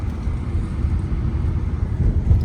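A car cruises along an expressway, with a steady low engine-and-road rumble from inside the cabin and no talking.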